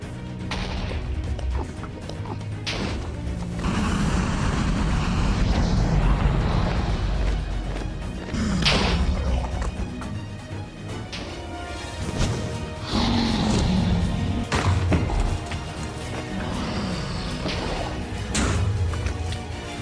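Blocks and crystals smashed apart atop the End towers in Minecraft, a steady run of crunching impacts and thuds layered over a dense, busy game soundscape with sharp transient bursts.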